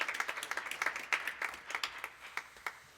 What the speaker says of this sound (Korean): 우리 자신에게 축복과 응원의 박수 한번 보내드리겠습니다